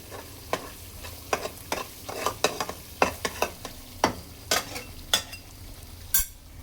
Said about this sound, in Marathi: तेल सुटूपर्यंत चांगला मसाला परतून घ्यायचा आहे, फ्राय करून घ्यायचा आहे.